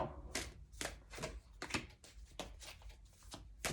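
Tarot cards being shuffled by hand, a run of quick papery riffles and slaps in an uneven rhythm, close and fairly loud with no talking.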